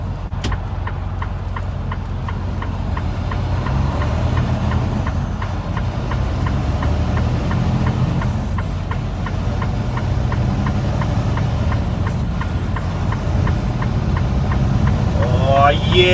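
Truck engine droning steadily while accelerating to merge back into highway traffic, a sustained low rumble with road noise under a voice talking throughout.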